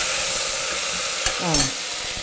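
Food sizzles steadily as it fries in a pan, with a brief scrape of a spoon stirring it partway through, fairly close and with no talking.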